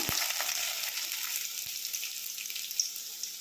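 Garlic frying in hot oil with popped mustard seeds and fenugreek, a steady close sizzle filling the pan with a couple of faint clinks, no voices.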